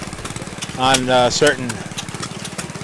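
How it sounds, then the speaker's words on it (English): An early 1920s engine drives a Gould's water pump, chugging in a steady, even rhythm close by while someone talks briefly over it. "This engine is driving an early 1920s Gould's water pump"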